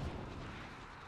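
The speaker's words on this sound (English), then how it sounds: "This is the time for explosives. So we want to blow up all that stuff right there." Explosives blowing up in the XCOM 2 video game, a short dense rumbling blast that opens with a deep thump and continues as a sustained low roar.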